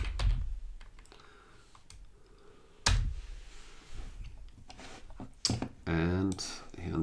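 Keys clack on a computer keyboard as a file name is typed, bursts of clicking interspersed with loud thumps and someone talking over it.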